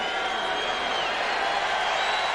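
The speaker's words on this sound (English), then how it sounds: "And listen to this crowd" A roaring basketball arena crowd at an NBA game between the Bulls and Spurs, a steady, loud, dense wash of voices filling the space throughout.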